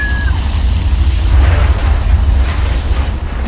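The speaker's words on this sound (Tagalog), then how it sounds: "Pagsabog ay nagdulot ng pangalawang pagsabog na nagbukas sa tuktok ng pader at nagpabagsak ng konkreto." A movie explosion blasts open the top of a wall and brings concrete down, heard as a loud, sustained deep rumble with debris noise that fills the whole stretch without letup.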